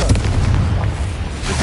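Confringo fire spell exploding in the Hogwarts Legacy video game, a short loud booming burst with a rumbling low body, heard alone.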